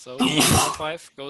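Someone sneezes once, sharply and fairly close, during an awards ceremony for a game-making contest, with someone speaking just before and after.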